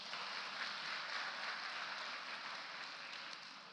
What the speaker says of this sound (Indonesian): Oke, kita tepuk tangan untuk Brian.